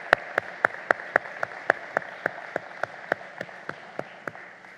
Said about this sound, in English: Now let's clap for her.